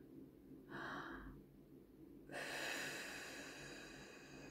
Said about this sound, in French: J'inspire, je souffle.